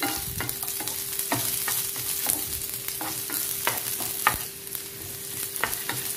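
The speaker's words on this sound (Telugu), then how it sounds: "వీటిని 1 నిమిషం పాటు కలుపుకోవాలి. కలుపుకుంటూ వేయించుకోవాలి." Ginger pieces stir-fry in hot oil with a steady sizzle. A spatula scrapes and taps the pan in a loose rhythm, close and continuous, with no voices.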